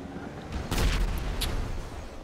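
A gas tank explodes in GTA Online with a short, muffled boom and a brief rumbling tail, fairly faint and heard alone.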